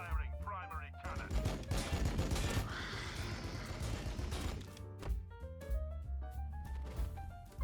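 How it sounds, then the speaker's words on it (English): A primary cannon firing in the strategy game Warhammer 40k Battlesector, heard as loud repeated blasts and crackling impacts that overlap with game music and voice lines. "Firing primary cannon."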